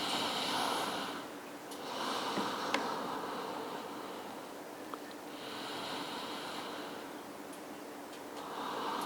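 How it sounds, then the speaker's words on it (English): Slow, deep breaths drawn in and released through the nose, three long inhale-exhale cycles, close and soft, taken while resting in child's pose during a yoga flow. "Let's give ourselves at least 3 deep breaths here."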